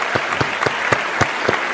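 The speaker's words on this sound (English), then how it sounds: "Give him an applause." Applause from an audience at an international climate change meeting, sounding as a few spaced, distinct claps over a steady crowd hum rather than a full ovation.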